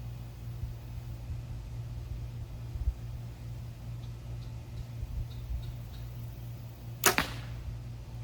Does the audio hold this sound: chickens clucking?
no